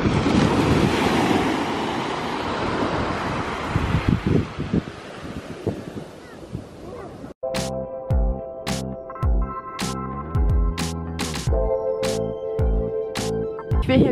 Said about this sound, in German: So schön ist es hier am Strand.